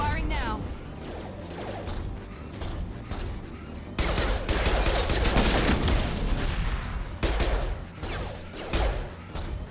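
Gunfire in the video game Mass Effect 2: a battle mix of shots and mechanical clatter under game effects, growing louder and denser halfway through, with bursts of fire continuing to the end.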